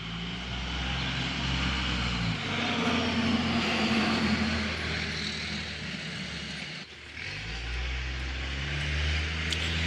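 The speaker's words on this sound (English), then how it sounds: "a couple of the Diesel brothers going way too fast to the neighborhood with a diesel, being obnoxious" A diesel truck roars past fast through a residential neighborhood, a loud low rumbling drone that drops off sharply, then swells back up, heard from fairly close with no talking.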